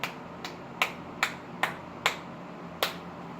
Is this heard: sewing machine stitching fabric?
no